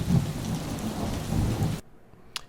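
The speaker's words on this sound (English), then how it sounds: "So here's a thunder and rain sample." Thunder and rain sample from a Logic loop library: steady rain with a low rumble of thunder that stops abruptly, leaving near silence and then a single faint click.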